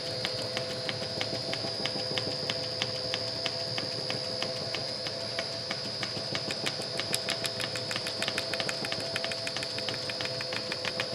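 A pattern-making lathe takes coarse roughing passes on a wooden drum pattern for a Deere "Amazon" cane mill, a steady mechanical hum with a rapid train of ticking clicks building toward the end, close and without talk.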